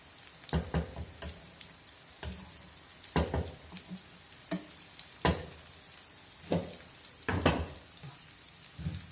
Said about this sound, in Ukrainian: і капуста з ребрами тушиться помалу